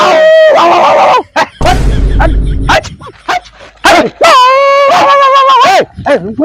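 Dogs bark and yelp in loud, close bursts, with a sharp noisy thud midway, while people talk excitedly throughout in a North Karnataka comedy scene.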